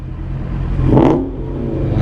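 A motorcycle engine is blipped once with a short throttle rev that swells and falls back to a steady idle, close by and fairly loud.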